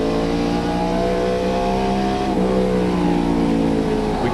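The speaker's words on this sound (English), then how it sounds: "We can hear him back off the corner," From on board a stock car during the 1996 Tyson Holly Farms 400, a loud engine drones with strong, steady harmonics and then shifts pitch midway as the driver lifts off the throttle into a corner, with no voices present.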